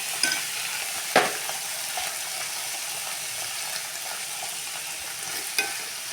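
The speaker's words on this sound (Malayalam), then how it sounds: "നല്ലവണ്ണം ഇളക്കി കൊടുത്തിട്ട് അടച്ച് വെച്ച് വേവിക്കണം" Chopped vegetables such as snake gourd, eggplant and long beans being stirred in a pan for a mixed vegetable stir-fry, giving a steady sizzle with a few sharp scraping clinks of the spoon, close and moderately loud with no talking.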